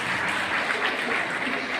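An audience at a college annual function applauds to welcome a guest, a steady dense patter of clapping sustained throughout without a break.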